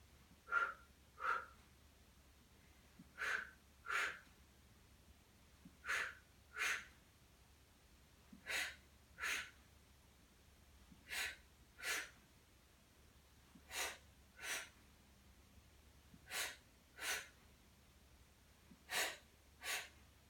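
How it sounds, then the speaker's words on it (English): Rhythmic paired breaths during an abdominal floor workout, sharp inhale-exhale pairs repeating every couple of seconds, close and fairly faint over a quiet background hum. "And we breathe through it."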